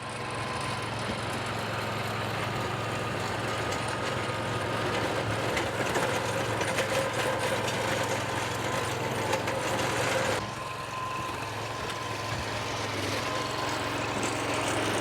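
Engine of a Struck MH4900 mini dozer, a zero-turn tracked machine, running steadily throughout with a continuous low drone and rumble at moderate distance, easing briefly after ten seconds.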